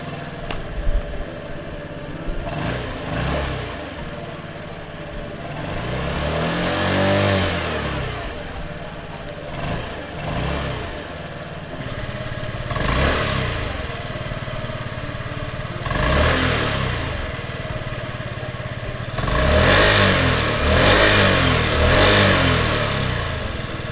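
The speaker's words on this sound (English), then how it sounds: "so you get that fuel pump whine, and then you'd hold the front brake and you can hit the electric starter" A 2025 Honda Metro scooter fired by its electric starter, its small engine catching and then idling with repeated swells in revs over a steady mid-range hum, close and fairly loud, no talking.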